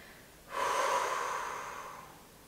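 One long, close exhale while a yoga stretch is held, starting suddenly, then breathy and slowly fading over about two seconds.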